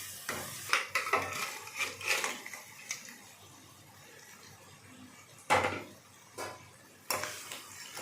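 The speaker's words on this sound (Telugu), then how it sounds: "సిమ్లో పెట్టి వేయించుకోవాలండి" Crab gravy masala with turmeric frying gently on a low flame: intermittent metallic clinks and scrapes of a spoon in the pan over a soft background hiss, with several louder knocks spaced irregularly.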